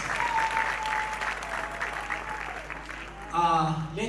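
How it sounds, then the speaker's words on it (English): An audience gives a big round of applause for the MCs at an event, a sustained wash of many hands clapping under a voice speaking over it. "let's give them a very big round of applause."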